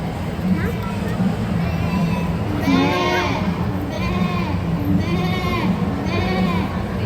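A performer imitates a goat's bleating during a school readers theater show, several wavering bleats in a row over murmuring audience chatter and room noise.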